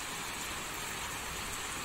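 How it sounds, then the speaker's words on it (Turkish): Rain mixed with hail falls steadily, a dense, even hiss of drops and pellets striking surfaces close by, with no voices over it. "Geliyor bak yağmur geliyor şu anda."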